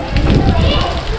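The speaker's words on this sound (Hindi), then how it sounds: "बारिश देख रहे हो तुम" Dense, steady patter of rain falling on a surface, close and fairly loud, with faint voices mixed underneath.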